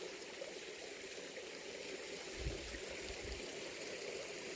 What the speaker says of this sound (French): Ce bruit si apaisant des petites cascades qu'ils forment ici et là.